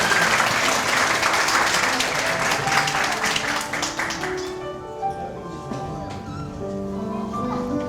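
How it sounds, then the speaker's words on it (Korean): Loud, dense applause from a wedding crowd fills the first half, then thins into scattered clapping with a few voices murmuring underneath. "박수 부탁드립니다"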